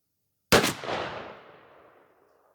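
A single loud, sharp shotgun blast from a Remington 11-87 12-gauge firing a Premier Magnum turkey load, with a long echoing decay that fades over about two seconds.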